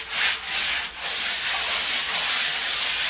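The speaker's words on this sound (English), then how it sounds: "So now hubby is sanding the tile" Steady, loud scratchy rasping of sandpaper rubbed back and forth over a hard bathroom wall tile surface, continuous and close with slight rhythmic swells.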